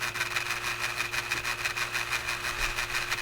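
Fume extractor fan running with a newly developed rattle, a steady, fairly quiet mechanical whir with a constant tone and a fast, fluttering buzz over a low hum, heard alone without talk.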